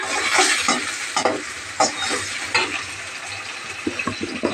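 Onion, curry leaves and tomato frying in hot oil for buttermilk pulusu, a loud, close crackling sizzle broken by several sharp spatula scrapes and stirring clatters against the pan.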